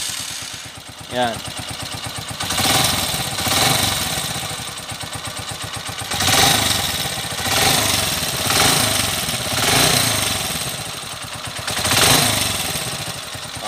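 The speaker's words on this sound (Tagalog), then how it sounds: "Normal issue ng mga TMX 125 ngayon na bago. Lagitik talaga." A new Honda TMX 125 motorcycle engine runs with a ticking noise, a loud steady mechanical chatter with throttle blips rising and falling in regular surges, a brief word spoken early.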